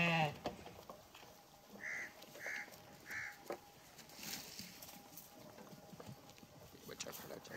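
Goats bleat on a farm, including a newly arrived male breeder goat, with three or four short nasal calls in the middle amid scattered knocks and background noise; people talk nearby.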